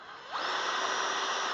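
18 volt cordless 1/2-inch variable speed hammer drill set to hammer mode, spinning up quickly into a steady high whirring motor whine that holds for the rest of the moment, loud and close.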